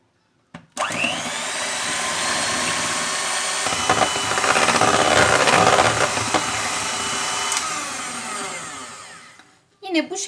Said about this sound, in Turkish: şekilde kıvama gelene kadar pasta kremamızı çırpıyoruz arkadaşlar